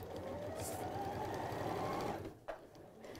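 A sewing machine stitches a quilt in a steady, fast mechanical whir for about two seconds, then stops, leaving a brief click and low room noise.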